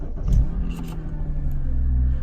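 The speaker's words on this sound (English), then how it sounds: "And then I start the car." A Porsche Cayman cold-starts with a quick crank and catch, then settles into a steady, fairly loud low idle rumble close by; a brief click sounds near the start.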